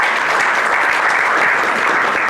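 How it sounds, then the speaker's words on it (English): Steady audience applause for Kelvin Okwako of Jacob's Ladder Africa at the YSEM third session 2024, a dense, even burst of clapping that holds at full strength throughout. "So, ladies and gentlemen, give a round of applause from Jacob's Ladder,"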